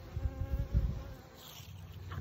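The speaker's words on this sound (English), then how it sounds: "That's a smaller hive there. Doing orientation flights or something out here in front this morning." Honeybees making orientation flights in front of a small hive on a November morning, a close, wavering buzz that swells in short bursts as individual bees pass near, then fades to a softer hum.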